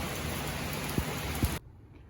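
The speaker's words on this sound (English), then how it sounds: "as soon as this rain clears out" Rain falls steadily outside in a backyard shower, a dense even hiss with two soft low thumps before it cuts off abruptly near the end.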